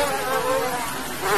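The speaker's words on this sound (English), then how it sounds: "we have the mass-produced mosquitoes getting ready to give us the eggs" A dense swarm of mass-produced mosquitoes in cages at a mosquito breeding factory in Colombia, a continuous close whining buzz that wavers slightly in pitch and holds steady throughout.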